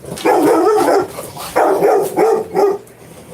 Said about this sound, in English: Now somebody's knocking on the door, which makes my dog go nuts.